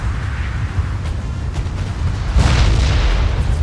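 Howitzer artillery fires in a Napoleon Total War battle: deep, rumbling booms roll over a dense low battlefield din, with a heavier blast swelling near the end.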